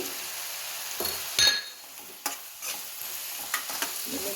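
Soaked cashews frying in a pan for paneer butter masala give a soft steady sizzle, broken by a few sharp clinks of a spoon against the pan.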